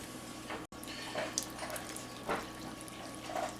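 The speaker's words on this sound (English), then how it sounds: "add some water" Water from a tap runs steadily into a pot of ground beef vegetable soup with canned tomatoes, a soft continuous splashing and trickling heard up close with no talk.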